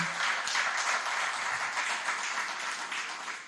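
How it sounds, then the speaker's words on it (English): An audience at a government platform launch in Jamaica gives a round of applause, steady, fairly soft, distant-sounding clapping filling the whole moment with no voices. "Let's give him a round of applause again."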